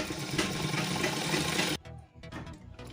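A sewing machine stitches a salwar seam, running loud and steady for nearly two seconds before it drops away to a quieter, uneven whir.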